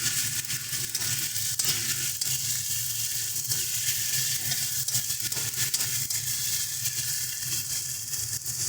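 Onion with green chilli and ginger paste is stirred together in a hot frying pan, giving a steady close sizzle with scraping stir strokes throughout and no talking.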